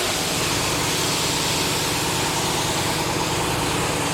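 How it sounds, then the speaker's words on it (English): Air compressor running in a motorcycle custom paint shop, a steady, loud mechanical drone and hum that continues unbroken throughout with no speech. "Pardon the air compressor, but you do need air."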